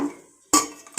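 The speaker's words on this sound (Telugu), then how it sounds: "సో ఒక గిన్నె పెట్టుకుందామండి" A metal bowl is set down on a kitchen counter, heard as two sharp, close clinks about half a second apart, each ringing briefly, with no talking.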